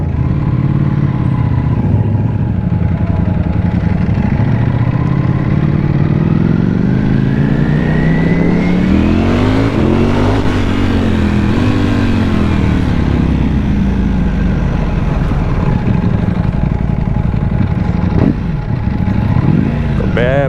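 A Ducati Panigale V4S motorcycle roars continuously and loudly while being ridden, its engine pitch climbing and falling with revs and gear changes, with wind noise throughout.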